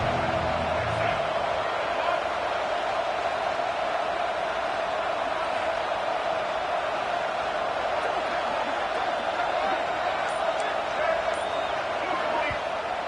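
A dense, constant roar of a large college football stadium crowd cheering and shouting during Stanford vs BYU, steady throughout without breaks.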